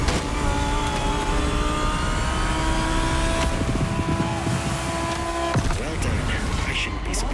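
A car engine in The Crew Motorfest racing game, held at full throttle in a loud, steady drone with a gear shift partway through, under continuous talk.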